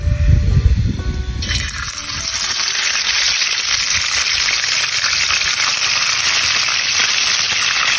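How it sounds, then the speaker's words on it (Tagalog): Hot oil sizzles and crackles loudly and steadily as salted flying fish fry, after a brief low rumble at the start, with no talking. "Simulan na natin ng prito yan"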